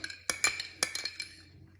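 Metal utensils clink and scrape against a bowl while extreme spicy Chinese noodles are mixed, a quick run of bright, close taps that tapers off toward the end.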